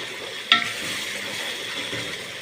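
Tomato sauce with a spoonful of sugar is stirred in a frying pan with onion: one sharp scrape of the utensil, then a low, steady sizzle with no talking.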